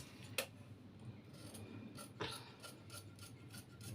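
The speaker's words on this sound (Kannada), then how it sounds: "ಈಗ ಕಟ್ಟಿಂಗ್ ಮಾಡ್ಕೋಬೇಕು" Scissors cut through blouse fabric for a size 34 boat-neck pattern, giving quiet rasping snips with a couple of sharper clicks, close and faint with no talking.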